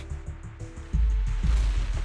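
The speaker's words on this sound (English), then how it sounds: "several explosions erupt, followed by tremors in the ground" Explosions in the game Zenless Zone Zero: a run of muffled low thuds gives way to a heavy, sustained ground-shaking rumble with repeated deep booms rolling underneath.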